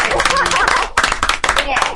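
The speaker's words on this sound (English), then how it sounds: "a round of applause for our Drunk of the Week, Vanna." Applause from an audience at a beer-tasting session, a short burst of clapping mixed with voices and whoops, dipping briefly near the middle before picking back up.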